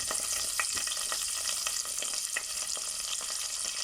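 Cumin seeds and curry leaves frying in margarine for braised samp, a dense steady hiss with small crackles and pops throughout.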